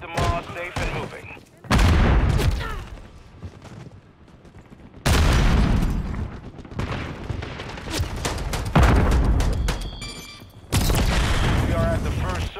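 Call of Duty gunfire, with loud repeated bursts of rapid shots and booming impacts separated by short quieter gaps, mixed with shouted combat voices.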